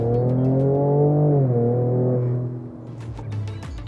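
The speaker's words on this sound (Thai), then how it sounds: "ถัดมาครับเป็นโหมดสปอร์ตโหมดนี้เพราะมากลองเหยียบฟังให้ดูสักนิดนึงนะ" A 2022 Ford Ranger Raptor's petrol V6 revs in sport exhaust mode, a loud, steady, close engine drone that rises and then settles lower, finishing with a few sharp pops.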